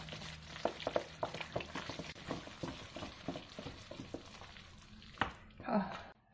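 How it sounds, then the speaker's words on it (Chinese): Spoon working through raw beef dumpling filling seasoned with minced ginger in a bowl, a run of soft, wet, irregular mixing strokes, close and moderately loud, ending with a couple of sharper knocks. "搅上来， 把它搅拌， 特别香的肉馅。"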